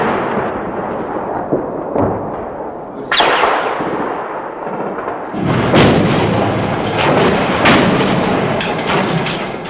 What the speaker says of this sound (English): Muslim forces had surrounded the hotel and the incoming fire was intense.